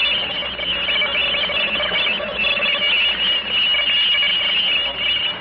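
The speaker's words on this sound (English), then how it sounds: "The next sound you hear is coming from outer space." Eerie space-signal effect for a radio sci-fi horror drama: a steady, shrill whistling and squealing drone with wavering tones over hiss, continuous and fairly loud for the whole stretch, with no voices.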